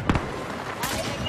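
A grenade blast in the Star Wars Battlefront 2 multiplayer game on Jakku: a short sharp burst up front, then a second broad rush of noise, with game voices and ambience around it.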